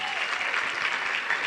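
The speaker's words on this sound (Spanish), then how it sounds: "Vamos a darle ese fuerte aplauso a Jesús en esta mañana." A church congregation applauds loudly during a Sunday morning service, a dense continuous clapping wash with a voice speaking over it at the start.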